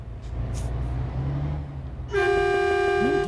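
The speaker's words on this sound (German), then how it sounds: "Ey, ich höre der Hupe doppelt. Ich höre sie im Spiel und außerhalb vom Spiel." Truck horn in the Euro Truck Simulator 2 driving game, a loud, steady, multi-tone blast that starts partway through over a low engine rumble, close and continuous to the end, with no talk.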